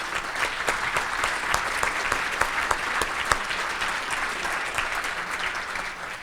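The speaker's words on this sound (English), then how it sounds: "would you mind helping me give them a round of applause to say thank you?" An audience at a Capitol business day opening session claps, a loud, brisk round of applause with sharp individual hand claps that carries evenly to the end.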